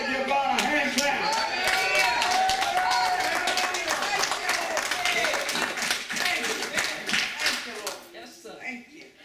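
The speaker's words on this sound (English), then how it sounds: "If you love the Lord, you ought to give God a hand clap." Church congregation clapping hands after a call to praise the Lord, dense rapid claps and some cheering that fill the space, loud at first then thinning out toward the end.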